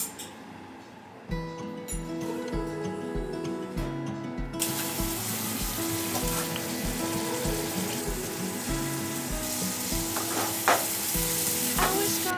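Mushrooms searing in a hot pan, a loud, dense sizzle that swells sharply after a short stretch of quieter background rhythm, with occasional clatters of stirring and no talking.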